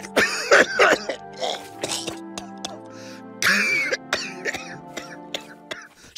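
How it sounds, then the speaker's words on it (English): A cartoon character coughs and gurgles in a series of harsh, wet, irregular bursts, some hacking and throaty, with short pauses between them. "Cough, cough, gurgle"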